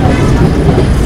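Train pulling into Raipur Junction railway station, a loud, close rumble of wheels and carriages over the rails, steady throughout a brief moment.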